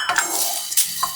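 Curry leaves, fenugreek and cinnamon being stirred as curry powder spices dry-roast in a pan, with close scraping and a few metallic clinks of the utensil against the pan, no voices.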